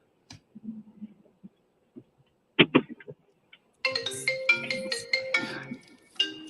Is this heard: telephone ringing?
yes